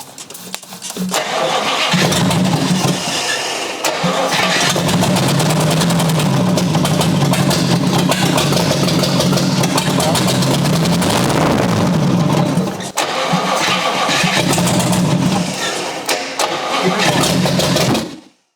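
A 1956 Chrysler Windsor with a formerly stuck engine cranks briefly, then fires and runs loud and close, roaring with uneven revving and a short dip before picking back up.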